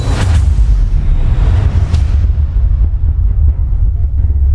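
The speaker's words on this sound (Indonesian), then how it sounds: "Setiap benturan menghasilkan ledakan dahsyat, seolah dua kekuatan besar saling bertabrakan di dalam ruang sempit." Heavy booming explosions from clashing black energy, a dense continuous low rumble with a sharp burst near the start, loud and close with no voices.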